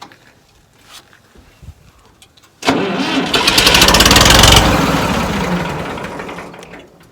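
A small engine on a fence-building job cranks and catches with the choke on, a loud close mechanical roar that rises sharply, holds for a couple of seconds, then slowly fades and falters.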